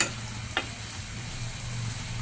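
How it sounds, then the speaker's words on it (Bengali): Onions sizzle in hot oil in a pan while a small-fish kachki dish is being cooked, a close, steady frying hiss with a brief stir or clink early on and no talk. "আমি পেঁয়াজগুলোকে আগে ভেজে নেব"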